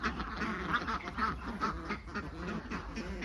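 Young Khaki Campbell laying ducks roaming outside their pen on a Thai farm quack steadily in a dense, nearby flock chorus, rhythmic overlapping calls with no clear speech.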